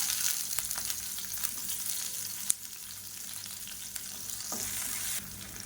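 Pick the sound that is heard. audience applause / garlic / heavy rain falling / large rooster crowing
garlic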